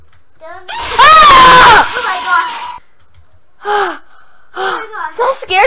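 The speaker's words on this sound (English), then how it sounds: "I heard you scream and it scared me a little bit" A person screams in fright during a horror game, one long loud high-pitched shriek, then several shorter gasping cries and yelps after a brief pause, close and alone.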